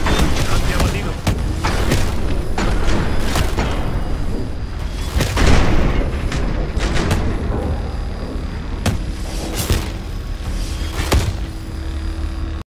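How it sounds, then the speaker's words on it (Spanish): Repeated loud gunshots and booming blasts in Call of Duty: Advanced Warfare crack out at irregular intervals, close and distant, over a rumbling battle din with voices shouting in Spanish. "¡Disparos por la derecha!"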